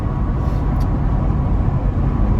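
A Jeep cruising on the freeway after a steering recall fix, heard from inside as a loud, steady low rumble of road and engine noise with no break.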